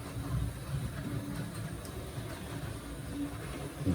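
A model train with brake rigging and NEM couplings runs along the track with a low, steady rumble and faint clicking, sounding slightly dry, heard alone and fairly quiet.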